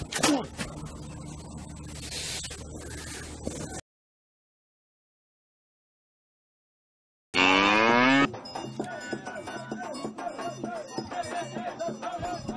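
Cattle moo loudly amid a rowdy outdoor show crowd, with a cowbell clanking, the lowing drawn-out and mixed with noise, then a stretch of silence before sound resumes.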